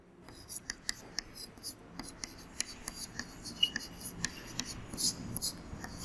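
Quiet, close scratching and tapping of writing on a board, with short strokes in an irregular rhythm during a class 6 maths lesson on shapes.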